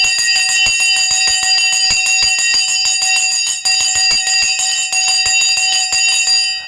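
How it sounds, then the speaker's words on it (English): A stock market opening bell rings loudly and continuously, a rapid steady metallic clanging with sustained bright ringing tones, no voices over it. "The bell has now gone."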